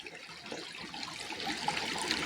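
A small forest river flows steadily nearby, a continuous close trickle and gurgle of water over stones with no voices over it.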